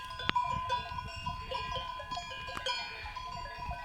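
Goats and sheep bleat nearby while bells clank and tinkle irregularly among the grazing flock, with no talking.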